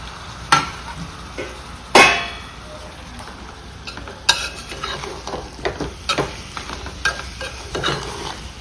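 Tomato dropped into hot oil in a pan for a sweet potato sour soup, with a steady sizzle and frying hiss, sharp clinks of a spoon against the pan and stirring, close up with no talk.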